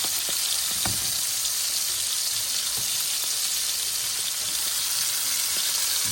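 Blackened redfish fillets sizzle steadily in a hot pan, a dense, crackling hiss with occasional sharper pops, close and continuous without talk.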